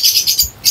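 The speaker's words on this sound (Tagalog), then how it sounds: "ang ibon natin si Cobra," A gamefowl, a Santa Ana Clacker, gives short high chirping calls in a few quick bursts, close by and fairly loud, with no talking.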